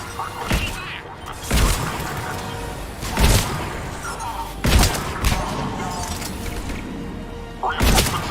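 Heavy gunfire and impacts during an attack in the Mass Effect 3 video game. Loud booming bursts arrive every second or two over a constant rumble of battle, with voices heard faintly in the mix.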